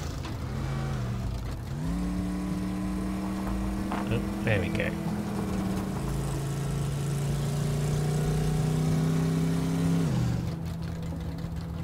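A car engine in the Teardown video game idles and then revs up in a steady, sustained tone, holding higher pitch for several seconds before dropping back, with someone talking briefly over it.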